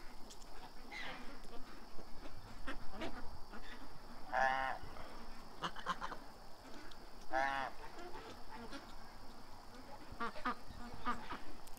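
Outdoors where ducks are being fed, a goose gives two or three nasal honks at mid distance among background chatter and ambient noise.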